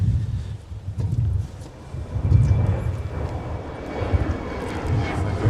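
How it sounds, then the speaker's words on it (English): An Air Canada Embraer E175 jet taxis at Minneapolis–St. Paul airport in winter, a steady low engine rumble rising and falling with gusty wind noise, moderately close and with no talk over it. "We've got an Air Canada Airbus. It's an Embraer E175."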